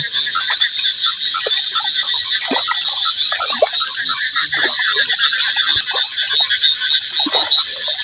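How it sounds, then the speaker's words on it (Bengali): A dense chorus of frogs croaks continuously, loud and close, with no pauses, during night fishing with a net in the monsoon rainy season. "এই দেখুন একটা ব্যাঙও বাজছে জালে"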